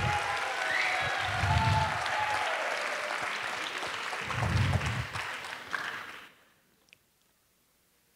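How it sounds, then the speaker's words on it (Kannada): Audience applause at the Havyaka Association of the Americas biennial convention, a thick, steady clapping over quiet background voices that fades out abruptly, leaving near silence. "ಚಪ್ಪಾಳೆ ಹೊಡಿರಿ, ನೆಗೆಡ್ರಿ,"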